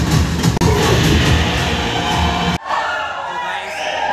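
A cinema crowd at a Salman Khan film roars with whistles, cheers and clapping, loud and dense at first, then cutting abruptly to a quieter but still busy hall noise.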